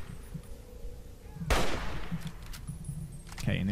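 Assault rifle fire in the video game Fallout 3 bursts in suddenly as a loud blast, then fades into a decaying tail before another sharp shot hits near the end.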